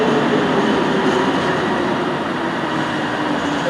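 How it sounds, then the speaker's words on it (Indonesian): A driverless LRT train bound for Kelana Jaya rumbles steadily through a station, a constant loud roar of wheels and motors with no voices. "Aku akan kasih lihat ketibaan dan kepergian LRT yang jurusan ke"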